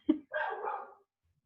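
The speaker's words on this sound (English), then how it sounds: "Sorry if you hear my dog barking in the background." A pet dog barks once in the background indoors, a short single bark with a brief yelp before it, fairly close and alone against silence.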